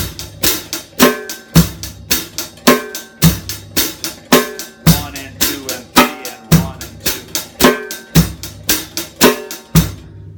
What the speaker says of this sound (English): Let's just say I put the bass drum on 1 and the snare drum on 3.